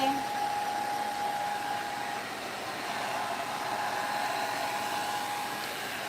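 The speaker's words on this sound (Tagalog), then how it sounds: "blower buhok ni ate" A hair dryer blows indoors, giving a steady, even whooshing hum that runs unbroken for several seconds, with faint voices in the background.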